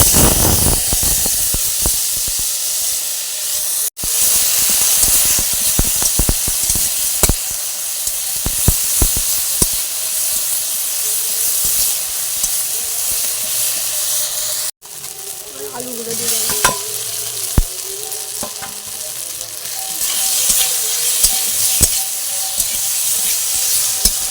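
Spice masala hits hot oil left from frying potatoes and shiuli-leaf fritters, giving a loud, close, continuous sizzling hiss full of crackles. Two brief dropouts break it before it settles into bubbling spatter. No one speaks.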